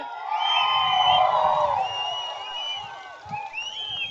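A large crowd at a political rally roars with cheering, whoops and shrill whistles, loud and sustained before easing a little and swelling again toward the end.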